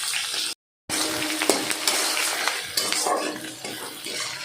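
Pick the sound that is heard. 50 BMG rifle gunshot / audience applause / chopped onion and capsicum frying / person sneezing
chopped onion and capsicum frying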